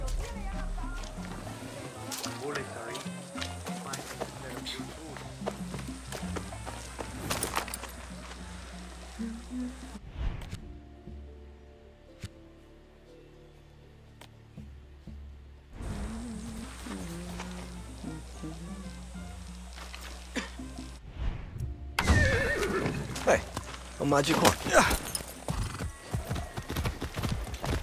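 A horse in the video game Far Cry 6 gallops with rhythmic clip-clop hoofbeats and gives loud whinnies, broken by a quieter stretch midway; someone speaks briefly over it.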